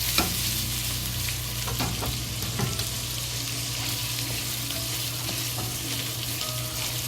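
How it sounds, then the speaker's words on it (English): Sausage frying slowly in a pan, skin crisping, with a steady loud sizzle throughout and occasional spatula scrapes and clicks; no voices. "And slowly fry."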